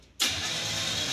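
The engine of the Stubby Bob project car, suspected of a dead coil, cranks without catching: a loud, steady churning that begins abruptly and carries on without firing.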